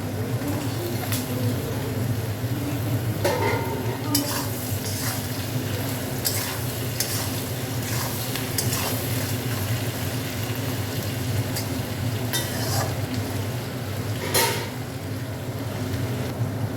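Onions and potatoes fry in a pan for a pomfret curry, a steady close sizzle with repeated scraping and clinking of a spatula stirring through them.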